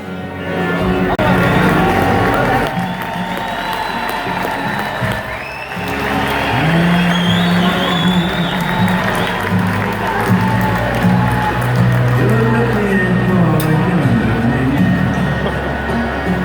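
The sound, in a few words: crowd cheering at a Trump rally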